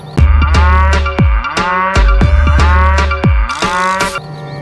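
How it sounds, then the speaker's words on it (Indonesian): A cow moos repeatedly, about eight loud close calls in a steady rhythm, each a long low bellow, with no speech. "Kita lihat ini sapi."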